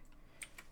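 A few faint, quick keystroke clicks on a computer keyboard, close by and alone in a quiet room.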